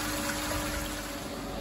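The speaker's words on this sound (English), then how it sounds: "I'm going to shut the gate and turn on my pump and set up my flushing." Steady rushing of water from a pump flushing the work area of a Comweb Orbit-Cut COC-200 EDM orbit machine, constant and moderately faint with a faint electrical hum beneath.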